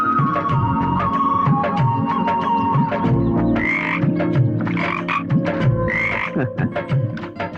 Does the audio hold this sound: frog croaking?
yes